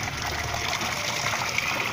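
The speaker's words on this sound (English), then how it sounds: "So what I'm gonna do now is I'm gonna give it some fresh water to a particular level" Fresh water pours steadily into a catfish tank, a continuous close rushing and trickling with no talking over it.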